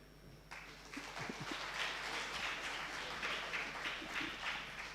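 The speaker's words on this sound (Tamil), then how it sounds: "ஒரு கைதட்டு" An audience at a Tamil talk claps on cue: scattered hand claps quickly build into a soft, steady round of applause that stays faint and distant for several seconds.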